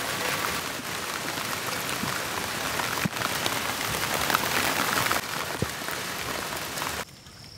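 Heavy rain pouring down steadily outdoors, a dense, even hiss of drops hitting surfaces that continues without pause before dropping off abruptly near the end.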